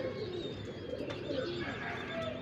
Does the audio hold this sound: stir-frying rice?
no